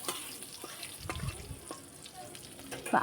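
Green chilies frying in a black cumin tempering of hot oil, a close crackling sizzle with a few spoon knocks and a brief stirring burst.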